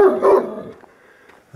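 A dog barks twice in quick succession near a fence in the Šumava countryside, loud and close, then falls quiet.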